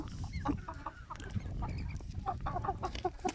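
Several chickens cluck and murmur close by in short, irregular bursts, with soft rustling in the background.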